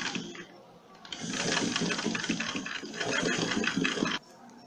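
A sewing machine stitches a studded triangle purse, its close, steady whir rising after a brief softer start, running for about three seconds and then stopping abruptly.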